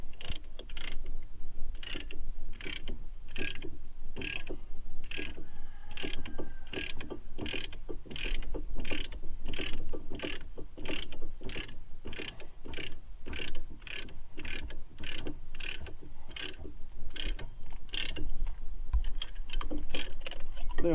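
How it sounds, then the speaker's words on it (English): A caliper spreader is turned to push a brake caliper piston back on a 2001 Buick Regal, giving a steady, close ratcheting click that repeats in even bursts for about twenty seconds. "take this caliper spreader in the spread direction and set it between that and the caliper"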